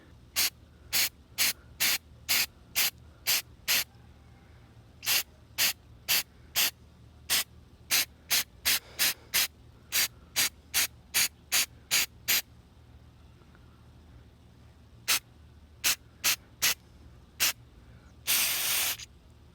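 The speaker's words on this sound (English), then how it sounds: "just point it right at the bead and then just spray it clean and it'll evaporate" Many short, sharp bursts of aerosol cleaner sprayed onto a Toyota Celica mass airflow sensor in irregular runs, ending with one longer continuous spray.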